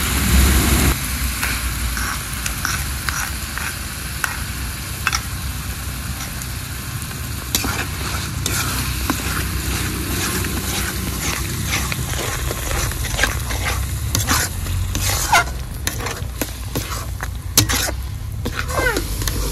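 Spinach is tipped into spices frying in oil and stirred, giving a continuous loud sizzle with repeated scraping and clattering of the spoon against the pan.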